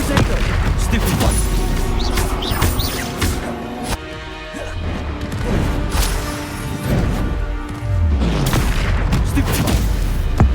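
Combat spells like Confringo and Stupefy blasting in Hogwarts Legacy, a loud, dense string of booms, crackles and impacts with bursts rising and falling over about ten seconds and the character's voice shouting amid the fight.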